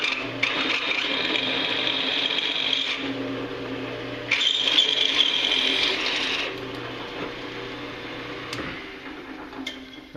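A drill press bores out a center hole in metal stock fastened to its table, its motor whining steadily with two louder bursts of high cutting chatter as the bit bites, alone and close.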